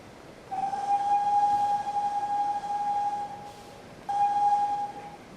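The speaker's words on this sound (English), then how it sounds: "He got to the station's master's office and whistled loudly." A steam locomotive whistle blowing loudly at a station, with a long sustained shrill blast followed by a shorter second blast, over a steady background hiss.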